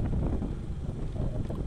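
Wind noise buffets the microphone while riding an e-bike at night past rice fields, a steady close rumble with no voices.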